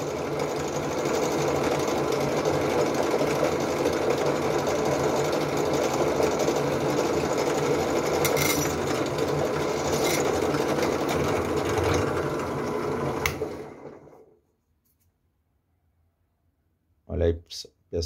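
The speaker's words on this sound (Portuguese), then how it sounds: "Não forcem muito, vai no tempo da broca, no tempo da máquina" Power drill with a 3-in-1 saw blade cutting into a small wheel, running as a steady, dense whir for about thirteen seconds before stopping abruptly, followed by silence and a brief final burst near the end.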